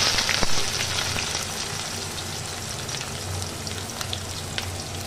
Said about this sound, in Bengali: এবার আমি এর মধ্যে দিয়ে দিচ্ছি পেঁয়াজ কুচি।